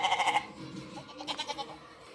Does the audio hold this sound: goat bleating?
yes